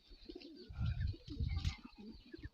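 Soft, low pigeon cooing repeats in a throaty rolling rhythm, close by, with faint bird chirps and rustling in the background.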